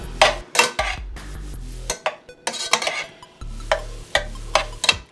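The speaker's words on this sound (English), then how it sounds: "All right, so just going to stir it over, stir it in." Cheese being stirred into macaroni in a pot, a spoon scraping and clinking against metal in short repeated strokes, with a faint sizzle between them, close and clear without speech.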